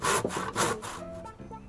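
A hand saw cuts a spare piece of wood near a barn, giving a few close rasping strokes followed by quieter scraping and creaking as the cut slows.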